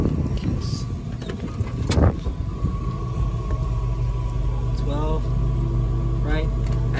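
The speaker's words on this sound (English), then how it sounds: "The car is cold. It's a cold start." A cold GM car engine idles steadily after a cold start on a chilly morning, a low continuous rumble close by with occasional faint bird calls in the background.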